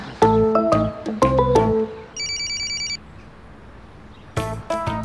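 A telephone rings while someone places a call. Rhythmic electronic ring tones repeat in short bursts, with a brief higher chirping pattern between them. The rings are close and fairly loud, with no talking over them.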